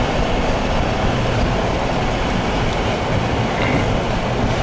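A broken-down freight train at a railroad crossing in Dunkirk, New York, rumbles past as a steady, loud wash of wheel and rail noise with no pauses or talking.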